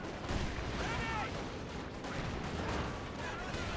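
Gunfire bursts and shell blasts from a Company of Heroes 2 replay battle, sounding as a dense, continuous rattle of shots and explosions at low level under a caster's voice.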